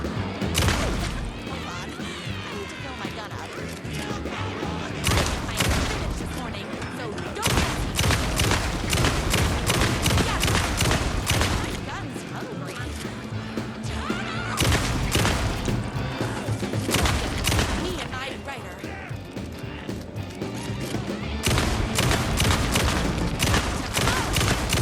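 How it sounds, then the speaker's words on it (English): Rapid, heavy shotgun blasts from a fully automatic pump-action shotgun in the survival-horror game Alan Wake II, booming in dense back-to-back bursts with short pauses, loud and close over a steady game soundscape. "Oh my god, fully automatic shotgun."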